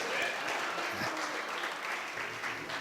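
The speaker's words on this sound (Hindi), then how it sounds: "एक बार ताली बज जानी चाहिए" Audience at a Hindi poetry recital, a kavi sammelan in Dehradun, breaking into sustained, fairly loud applause that rolls on evenly for a few seconds, with faint voices underneath.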